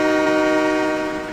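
A yellow train's horn blares loud and steady for over a second, a sustained multi-tone blast with rumbling rail noise beneath, close by and without voices.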